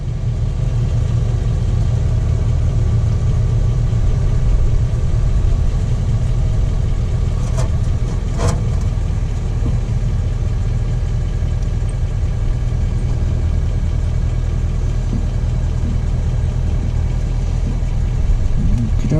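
A 2004 Chevy Blazer's engine idles steadily throughout, a constant low rumble with no revving, raised on a lift in a garage, and a couple of faint clicks partway through.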